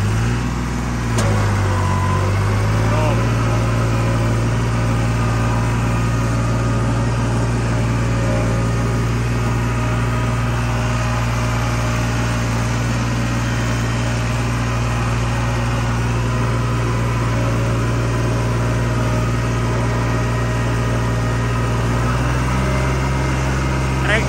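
A New Holland tractor engine runs loud and steady nearby in four-wheel drive and first medium gear, a constant low rumble that lasts the whole stretch while someone talks over it.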